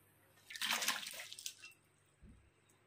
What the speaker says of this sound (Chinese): 冷水下锅